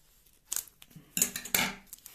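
Scissors snip and rip through adhesive tape on a mail parcel, a few quick close cuts and crackling tears in rapid succession, loud and near with no speech.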